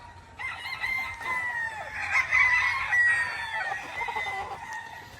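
Roosters crow at a gamefowl farm raising Roundhead breeds, several loud overlapping cock-a-doodle-doo calls close by, with clucking around them and no talk.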